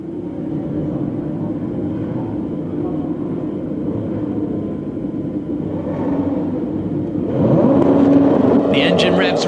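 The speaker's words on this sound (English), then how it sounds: "The engine revs rise then." Formula Two race cars at the 2011 race start fill the air with a steady engine roar that swells as revs rise, with commentary over it.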